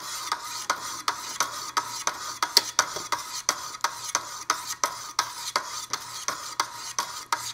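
A knife is sharpened on a Wicked Edge sharpener with 600 grit stones, giving steady, evenly spaced rasping strokes, close and clear with no talking.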